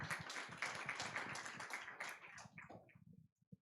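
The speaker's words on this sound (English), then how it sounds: "Clap if you have to clap, and clap harder." Audience clapping at a youth work celebration, a close, lively burst of many hands that thins into a few scattered claps and stops within about three and a half seconds.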